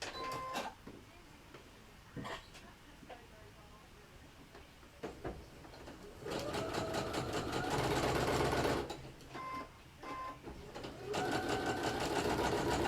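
A sewing machine stitches fabric for a flip-flop carrier in short bursts of rapid mechanical whirring, with louder, longer runs near the end and quieter pauses between them.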